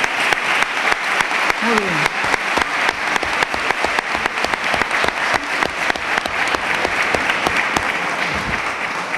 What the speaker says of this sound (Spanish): voy a pedir un aplauso para la Plaza de Toros de Sanlúcar de Barrameda.